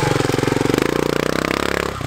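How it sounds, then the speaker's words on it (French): Montesa trial motorcycle with a Honda-built four-stroke engine runs close by, a steady rapid chugging throb that climbs slightly in pitch, then cuts abruptly near the end. "Là cette trial c'est une Montesa. Donc Montesa en fait ça a été racheté par Honda et du coup c'est un moteur Honda"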